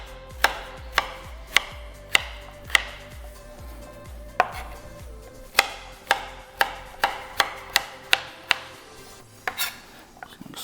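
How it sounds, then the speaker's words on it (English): A knife chops half of a large sweet bell pepper into cubes on a cutting board, giving a loud, close series of sharp, evenly spaced thwacks, some in quicker bursts, with no talking. "Cut this into some cubes."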